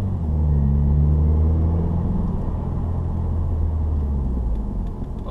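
A 2015 Subaru WRX pulls in third gear with a loud, steady, close engine drone and low rumble inside the cabin, holding constant for about five seconds.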